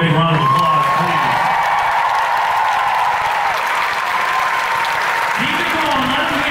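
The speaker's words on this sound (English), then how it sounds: "Can you guys give our crew a big round of applause, please?" A concert hall crowd gives the show crew a sustained round of applause with some cheering, loud and continuous, while a voice speaks over it near the start and again at the end.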